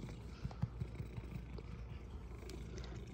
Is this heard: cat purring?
yes